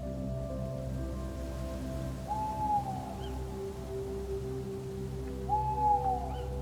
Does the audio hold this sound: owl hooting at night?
yes